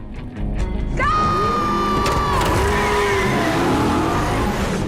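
A Barracuda stunt car with a fuel-injected engine revs hard, a loud, close roar that climbs and holds in pitch, then eases and rises again.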